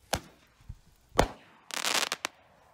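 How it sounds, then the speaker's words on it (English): Roman candle fireworks firing nearby, a few sharp separate pops followed by a dense crackling burst and one last loud crack, all without talk. "This is why you're not supposed to hold Roman candles."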